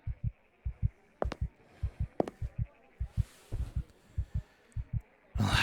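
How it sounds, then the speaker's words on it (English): Slow, steady heartbeat thumps in a double lub-dub rhythm, close and loud, with a few sharper clicks and a soft hiss partway through. "your heartbeat is quite loud"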